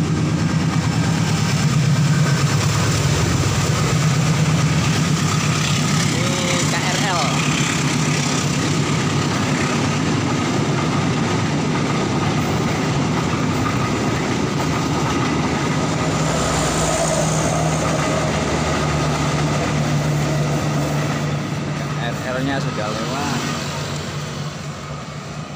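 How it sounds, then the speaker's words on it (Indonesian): A train rumbles past nearby in a long, steady roar with a low engine drone, fading slightly toward the end. "kereta api lewat."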